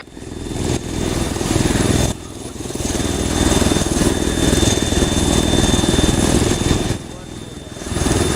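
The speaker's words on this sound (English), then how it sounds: "We're boarding the chopper." A military helicopter's engine and rotor make a loud, steady roar with rapid rotor pulsing, heard up close during an air assault training boarding. Indistinct voices come through underneath at times.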